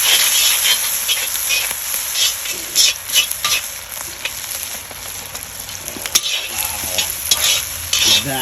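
Vegetables being stir-fried in a Lodge cast-iron wok over a Weber charcoal grill, sizzling loudly and continuously, with scraping stirs and clanks throughout and no talking.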